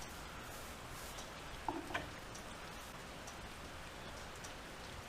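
Steady rain falls on a farm, a continuous even patter with a couple of brief louder knocks partway through and no voices.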